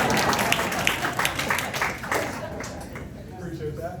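Audience applause at an expansion update meeting, a dense wash of clapping that stays steady for a few seconds, then thins and fades toward the end.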